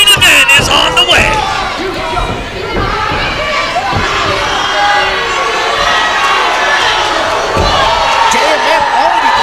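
Loud, dense wrestling crowd roaring and cheering continuously as a main event opens, with shouts and whistles rising throughout, voices mixed into the din.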